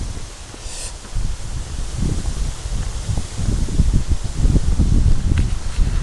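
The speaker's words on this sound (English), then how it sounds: "the wind is getting stronger and stronger" Strong gusting wind buffeting an outdoor microphone, a loud continuous low rumble and roar that builds over several seconds, rough and unsteady with no voices.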